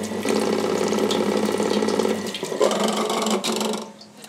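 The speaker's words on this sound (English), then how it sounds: "If you press this button when you're operating the machine, water will come into the cone and it will clean the cone quite easily." A Trendyblends real fruit ice cream machine runs a cone-rinse cycle. A steady mechanical whir with water rushing through it continues loud and alone for a couple of seconds, then falls away with some clicks and gurgles near the end.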